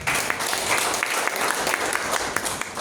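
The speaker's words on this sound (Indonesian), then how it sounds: "Tepuk tangan bagi dia" A church congregation at a Sunday worship service in Nganjuk claps together in steady, moderately loud applause that continues throughout without a break.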